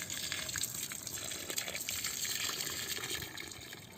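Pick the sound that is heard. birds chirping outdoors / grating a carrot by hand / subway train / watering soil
watering soil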